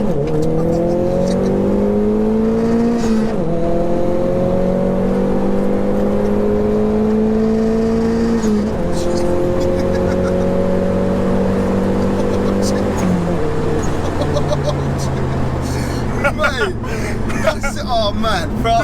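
A 340bhp Nissan Pulsar GTI-R heard from inside, its engine loud and close, climbing in pitch through several rising pulls broken by gear changes, with people talking over the engine noise.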